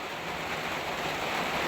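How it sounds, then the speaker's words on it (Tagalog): Heavy rain pours down on a leaking roof, a dense, steady hiss that holds at an even loudness throughout, with no voices. "Kuso kayong uwan"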